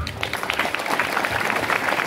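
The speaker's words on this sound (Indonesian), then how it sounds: "Beri tepuk tangan" An audience claps together at a religious gathering, a Quran completion celebration at an Islamic boarding school, with a dense, steady burst of applause that carries on for a couple of seconds.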